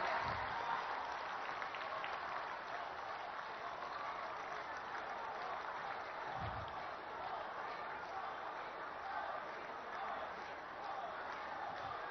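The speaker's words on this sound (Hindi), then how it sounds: "आप सब अपनी गगनभेदी तालियों की ध्वनि से माननीय प्रधानमंत्री जी का हार्दिक अभिवादन, अभिनंदन एवं स्वागत करें" Large audience applauding to welcome Prime Minister Narendra Modi at an inauguration and foundation-laying event: a sustained, dense roar of clapping from a big crowd, even in level throughout, with a couple of low thumps.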